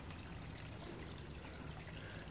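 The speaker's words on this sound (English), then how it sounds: "And I turned on the waterfall area." Water runs steadily from a fish pond waterfall, a continuous close trickling and splashing wash with no pauses and no voices.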